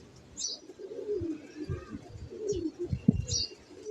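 Several pigeons coo softly and repeatedly up close, low rolling calls overlapping in an uneven rhythm with faint higher chirps above, no talking.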